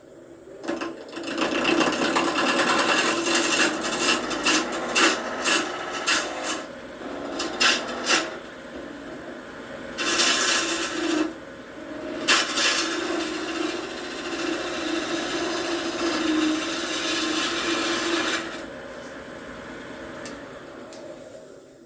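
Carbide turning tool cutting a wood piece on a lathe, a close, continuous scraping rasp over the spinning workpiece, broken by repeated brief bursts and short pauses as the tool is pushed in, then easing off near the end.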